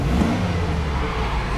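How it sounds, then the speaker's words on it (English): A 2005 Chevrolet Tahoe LT engine revs, heard as a steady, loud, close mechanical rumble with whirring that holds for under two seconds. "So the engine revs up beautifully, it idles smoothly"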